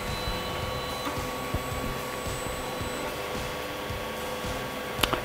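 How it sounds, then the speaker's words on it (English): A Wanhao i3 Mini 3D printer running its first print while its hot end heats: a steady whirring fan hum with faint high tones, broken by a couple of small clicks near the end. "It's heating to start its first print."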